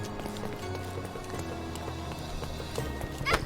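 Horse hooves clip-clop steadily on a street in the Sherlock Holmes Chapter One video game, several horses trotting past at moderate volume over a busy ambient city backdrop, with a louder clatter near the end.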